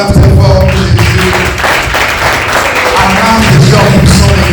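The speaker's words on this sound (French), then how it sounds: "Acclame Jésus en poussant des cris de joie." A church congregation applauds and shouts for joy, a dense, loud wash of clapping mixed with voices and cheering throughout.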